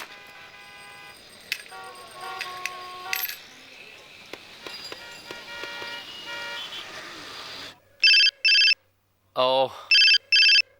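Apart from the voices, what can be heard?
telephone ringing during a phone call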